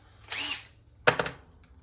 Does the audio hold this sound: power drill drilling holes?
yes